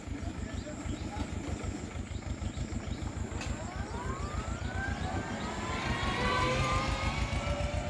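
Two-cylinder Ursus tractor engine runs steadily nearby with an even low chugging rhythm, pulses repeating throughout, while the noise of other passing traffic rises toward the end.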